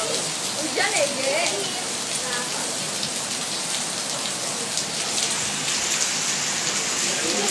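Steady rain falls across the outdoor film studio set at Studio Alam Gamplong in Yogyakarta, a dense, even hiss of drops on surfaces that holds throughout, with a faint voice briefly near the start.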